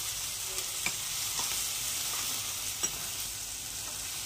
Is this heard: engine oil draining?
no